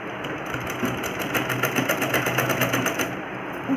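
Close, steady whirring and rapid rhythmic clatter of a sewing machine stitching a trouser hem, running continuously with slight speed variations and no speech.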